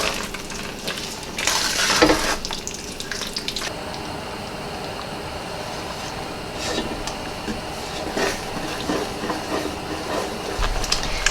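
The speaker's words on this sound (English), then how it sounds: "there's our boil that cannot be stirred down" Christmas jam mixture with raspberries at a hard rolling boil in a pot, a continuous bubbling, popping sputter with occasional louder bursts, close and steady without talk.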